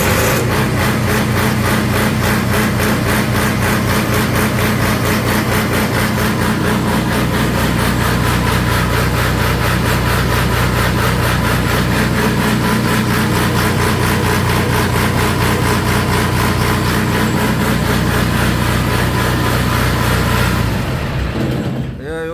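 A fire pump engine runs at a steady, loud, unbroken drone after its starter motor has been replaced, a continuous rumbling hum that holds constant before dropping off at the very end.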